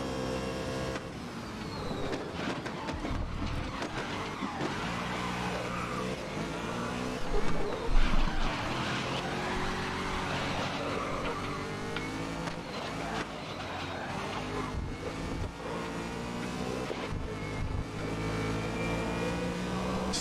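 Race car engines roaring and whining in a multiplayer racing video game, a continuous dense drone of revving motors with shifting pitch throughout, briefly swelling louder near the middle.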